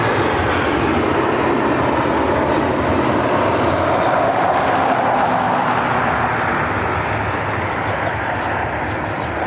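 Airplane at Cleveland Hopkins airport producing a loud, sustained jet engine roar that holds steady and swells slightly, with no talk over it.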